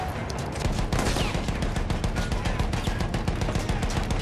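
Enemy gunfire in the Battlefield 1 war game, a steady rapid stream of machine-gun and rifle shots crackling close and loud without pause, with no talk over it.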